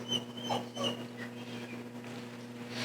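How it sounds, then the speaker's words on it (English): A dog whimpers and pants softly over a steady electrical hum, with short high whines repeating in the first second before fading into quieter breathing. "I'm gonna go over and see that dog, I already know it."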